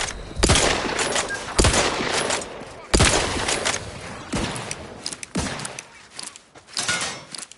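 Bursts of gunfire from The Outer Worlds 2: loud repeated volleys and single sharp shots with short gaps between them, thumping impacts mixed in, and brief game voices in the background.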